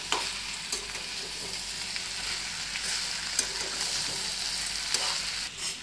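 Potato and okra fry on high flame in a pan, a dense, even sizzle holding steady while a spoon stirs with occasional soft scrapes and knocks, nearby and without speech.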